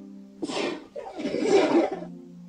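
A single close sneeze with a sharp intake and burst, set against a faint steady electronic hum.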